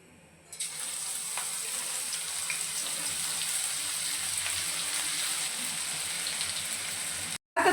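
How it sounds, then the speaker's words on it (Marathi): Ground green masala dropped into hot oil, bursting into a loud, steady, hissing sizzle that carries on close by and without talk until a brief cut near the end. "तेल चांगलं तापलं की तेलामध्ये आपण हा हिरवा मसाला वाटून घेतलेला आहे तो आपण इथे"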